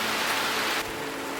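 Heavy rain pouring on a mountain trail at Mount Slamet in Central Java, a steady dense hiss of drops with no voices.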